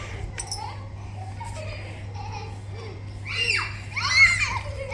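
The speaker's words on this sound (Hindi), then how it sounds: "सिर्फ तुम ही लोगों की आवाज आ रही है चीखने चिल्लाने की।" Children playing indoors, with high squeals, giggles and shrieks rising toward the end over a low steady hum, fairly close and lively.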